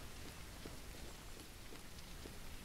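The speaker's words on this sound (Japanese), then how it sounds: "あ、雨やみそう。" Rain falls in the survival video game Jaws Of Extinction, a soft, steady patter of scattered drops at low volume with no voices.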